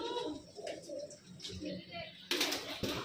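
Punjabi Malwai pigeons, including a red ratti female, coo in low, rolling murmurs close by while someone talks over them, with a brief hiss of noise near the end.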